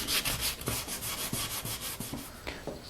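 Hand sanding a poplar finish with 400 grit sandpaper: steady back-and-forth rubbing strokes, close and fairly quiet, in a regular rhythm of about two strokes per second with no talk.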